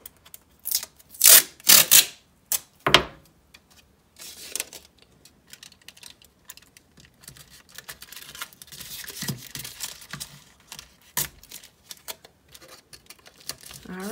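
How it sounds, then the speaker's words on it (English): Masking tape is pulled and pressed down over a folded foil edge, giving a few sharp tearing rips and crinkles up close, followed by softer rubbing and scattered rustling. "Gonna tape that."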